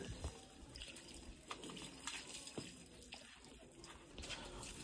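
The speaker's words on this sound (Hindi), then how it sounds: "ये नलके का पानी है, ठंडा ठंडा।" Cold tap water gushes steadily from an outdoor faucet used to bathe buffaloes and a calf, a continuous splashing rush with no voices.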